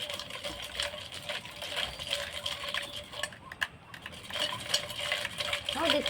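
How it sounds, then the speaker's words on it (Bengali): A spoon swirls sugar into a chocolate lassi with a steady, faint clinking and scraping against the glass that goes on throughout, quiet and close. "তো এইভাবে আমি ভালো করে ঘুরিয়ে নেব।"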